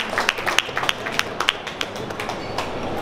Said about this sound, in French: Applaudissements également.